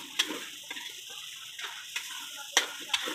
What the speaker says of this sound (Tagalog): so haluin natin mga idol